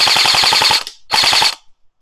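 Customized Sijun MK18 gel ball blaster toy firing at a target 40 feet away: two rapid full-auto bursts of sharp buzzing shots, the first about ten shots long, the second shorter, loud and close with no talk.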